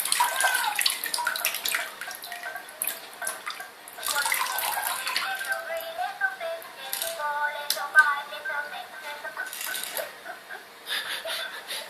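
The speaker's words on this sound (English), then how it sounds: "as soon as you put him in the water, he seems to sense that, hence the bubbling noise, maybe" A VTech fish bath toy bubbles and splashes in a bathtub of water, giving a steady watery gurgle across the whole stretch with faint background voices.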